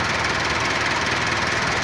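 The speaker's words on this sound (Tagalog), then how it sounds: "Pakiramdaman natin kung may maririnig ba tayo na hindi maganda sa makina." A car engine idles steadily up close after sitting unused for two years, a continuous rumbling drone with no talking.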